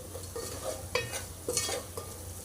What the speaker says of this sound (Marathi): आता छान फोडणी एकत्र करून घेऊया।